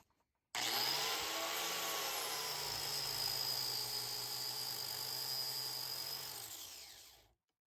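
An angle grinder spins a flap disc pressed against a sanding belt eraser to clean the grit, a sudden loud, steady high-pitched whine with a rough scraping edge that runs about seven seconds and then winds down.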